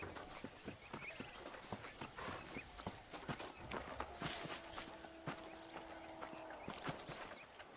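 Horse hooves clip-clopping at a walking pace in Red Dead Redemption, a steady stream of near hoof falls running throughout with faint ambient tones behind, no talk.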